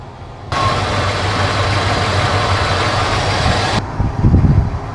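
A 1972 Chevy C20 truck engine fitted with FiTech EFI, idling steadily at close range as a low, even rumble for about three seconds before it cuts off.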